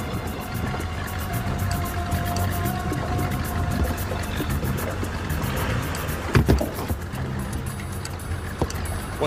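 Motorboat engine running on open water, a steady low rumble with splashing and hull noise throughout, fairly close, with a few sharper knocks near the end and no speech.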